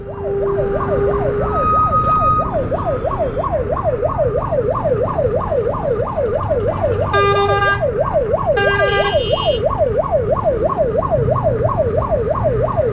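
An ambulance siren wails steadily through a long traffic jam on a Nepalese highway near Dhading. The rising-falling cycles repeat loudly and close over engine rumble, with a couple of blaring horn honks midway.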